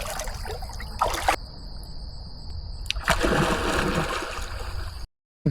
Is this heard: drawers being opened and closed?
no